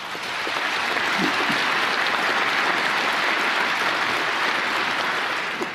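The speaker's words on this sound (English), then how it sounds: "And here come the applause." Steady, full applause from an audience swells in over the first half second and then holds as a dense, even wash of clapping for several seconds, with no voice over it.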